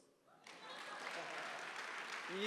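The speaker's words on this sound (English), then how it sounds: "Can I have a round of applause?" Applause at a youth business awards ceremony breaks out after a brief quiet and swells into steady, dense clapping from a crowd, growing slightly louder toward the end.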